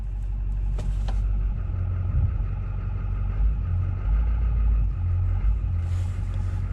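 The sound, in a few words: 2004 Duramax LB7 3500 dually truck running and driving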